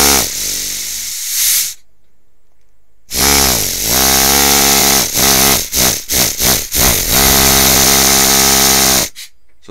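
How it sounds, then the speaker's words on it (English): Air-powered engraving tool running in bursts, a loud buzzing hiss with rapid pulsing tone that starts and stops repeatedly, including a pause and several short stuttering on-off bursts. "So that's an air engraving tool."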